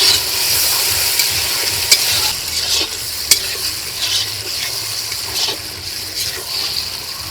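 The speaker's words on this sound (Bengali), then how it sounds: "এখন মশলাটাকে খুব সুন্দর করে আস্তে আস্তে কষিয়ে নিচ্ছি" Masala paste with chopped tomato for a large Patnai chicken curry is stirred and fried in a pan, a loud continuous sizzle overlaid with repeated scraping spatula strokes and a couple of sharp metallic knocks, close up and without talk.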